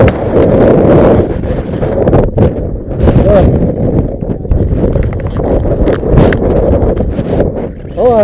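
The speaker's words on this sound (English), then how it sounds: "I wouldn't want to use this as a shield in the wind" Strong outdoor wind buffets an airsoft shield during a CQB airsoft game, a loud, continuous roaring rush with gusty swells and microphone rumble throughout, while people talk over it.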